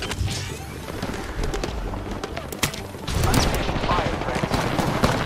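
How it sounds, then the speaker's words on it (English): Gunfire from an Apex Legends match, scattered bursts and single shots over a noisy battle backdrop, with a louder stretch of firing in the second half and game voices mixed in. "Opening fire on the enemy."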